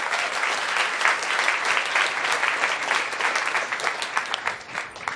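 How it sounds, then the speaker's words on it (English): An audience at a corporate conference event gives sustained, dense applause, loud and even throughout with no speech. "une bonne main d'applaudissement, un remerciement pour notre commanditaire principal"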